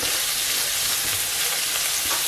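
Prawns frying in a pan while cooking Filipino palabok, a steady dense sizzle with a constant hiss and no voices.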